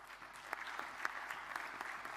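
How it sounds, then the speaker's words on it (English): Conference attendees at a talk on pediatric scoliosis surgery applaud the speaker, a soft, steady patter of many hands with a few sharper individual claps standing out. "Donc, vous pouvez applaudir notre intervenant."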